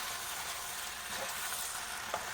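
Chilli soya chunks fry in sauce in a pan, making a soft, even, hissing sizzle with faint stirring scrapes.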